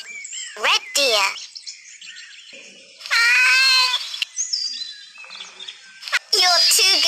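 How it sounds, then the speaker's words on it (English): A domestic cat meows in a few short, separate calls with quiet gaps between them, close and fairly loud, interspersed with other brief animal calls. "Cat."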